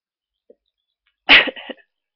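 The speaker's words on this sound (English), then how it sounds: "I need to make this sneeze come out" A single person's sneeze erupts after near silence, one loud burst followed by a shorter trailing exhale, heard alone and close.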